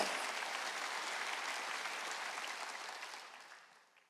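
A church congregation applauding during a Korean sermon, a dense sustained wash of many hands clapping at some distance that gradually fades out toward the end.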